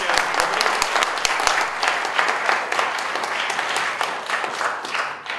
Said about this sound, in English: ladies and gentlemen, another round of applause for J.P. Tremblay and Chad.